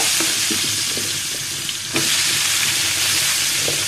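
Raw plantain pieces frying in oil in a pan, a steady loud sizzle with scattered stirring scrapes throughout, no talking.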